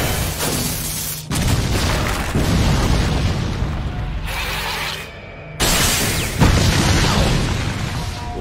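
Explosions in an anime fight between Gojo Satoru and Jogo, with repeated loud, close booms and roaring blasts that rise and fall, broken by short pauses, with no speech.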